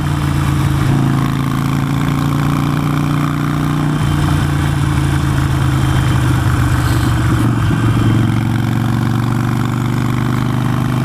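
A Harley-Davidson Nightster motorcycle engine drones loud and steady at close range, its deep pulsing tone shifting slightly partway through.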